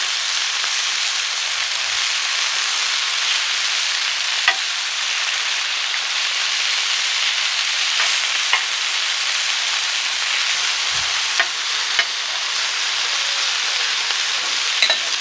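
Vegetables spread across a hot plancha griddle hiss in a loud, dense, unbroken sizzle, with occasional faint taps of a spatula.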